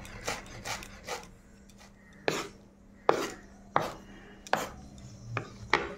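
A knife chops a mix of leafy greens, amaranth and spinach, on a board with close, crisp strikes, a few quick ones at first and then louder, evenly spaced chops roughly every half second, with no talking.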